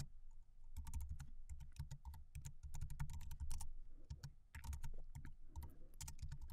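Rapid key presses on a computer keyboard as a password is entered during initial configuration of a Docker container in GNS3, steady and close, in irregular bursts with a low background hum, no talk.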